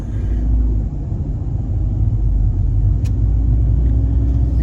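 A car cruises through a residential neighborhood just west of Lake Minnetonka in Minnetrista, its low engine rumble and road noise steady and close from the interior, with one brief click partway through.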